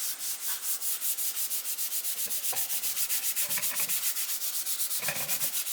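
Fine 800 to 1000 grit sandpaper rubbing back and forth over the finish of a seven-string guitar body, a steady rhythmic scratchy swish repeating about six times a second, close and continuous with no talk.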